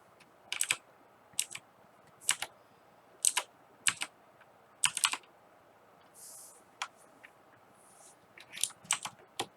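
Typing on a mechanical computer keyboard produces close, sharp key clicks in uneven clusters and quick double strikes, with brief pauses between bursts and no talking.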